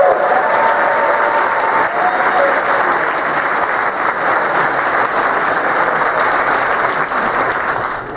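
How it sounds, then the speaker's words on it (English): Convention audience at a Hilton hotel applauding its guests, loud dense clapping from a large crowd sustained evenly throughout. "let's have a big round of applause first of all for our guests"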